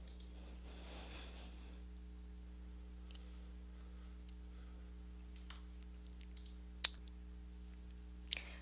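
Two sharp computer mouse clicks land near the end over a quiet, steady electrical hum, with no talking.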